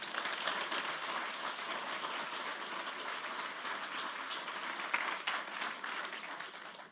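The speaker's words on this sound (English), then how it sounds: "Let's give them a big round of applause for doing that." A large audience at a business pitch competition claps loudly and steadily for the pitching companies, a dense sustained applause with a few sharper claps standing out near the end.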